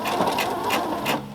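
A sewing machine runs forward for a short burst, its needle giving a quick, even series of close mechanical ticks and whirs with no talking.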